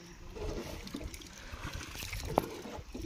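Swollen, flooded river water rushing steadily in a continuous broadband wash, with a brief splash or knock partway through and no talking.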